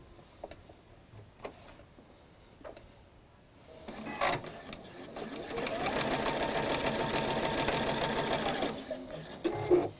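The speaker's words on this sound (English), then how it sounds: "sew on the line along that marked line" A sewing machine stitches along a marked line. A few soft handling taps come first, then a steady, rapid mechanical clatter of stitching runs for about five seconds, close and moderately loud, and slows to a stop.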